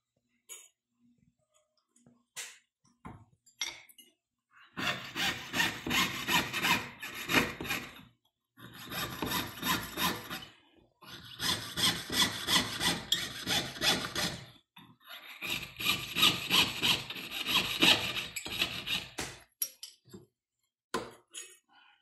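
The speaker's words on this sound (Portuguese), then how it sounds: "Agora eu já vou entrar com a serra para estar fazendo os detalhes e o recorte da peça." A jeweler's saw rasps back and forth through a metal coin, cutting out the details of a pendant, in four long bursts of steady close-up strokes separated by short pauses.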